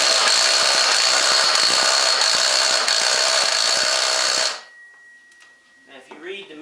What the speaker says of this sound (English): Go ahead and tighten your secondary bolt up.